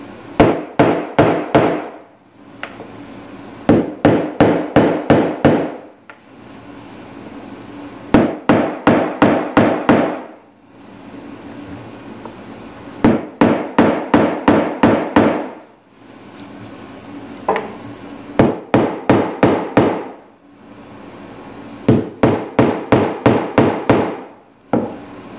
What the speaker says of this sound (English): you just want to get all these holes and just dent them in